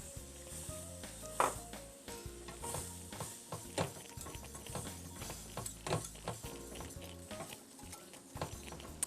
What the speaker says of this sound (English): I'll add a little bit at a time and keep stirring to make sure there are no lumps